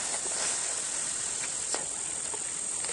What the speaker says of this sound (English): as it gets warmer, you might be able to hear the cicadas starting up.